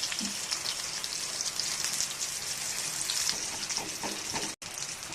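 Heavy rain pours steadily outside with gusting wind, a dense, even hiss of falling water that continues without pause and with no voices.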